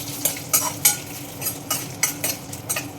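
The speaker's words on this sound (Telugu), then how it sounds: "మిరపకాయలు వేగినాయి." Dried red chillies, broken with their seeds, fry in a little oil while a spoon stirs, giving a soft sizzle broken by repeated crisp scraping strokes about every third of a second, close and without speech.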